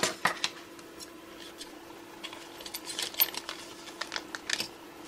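Cardboard and plastic mail packaging from a circuit-board supplier being torn and opened at the top, giving irregular crinkles, scrapes and taps over a faint steady hum.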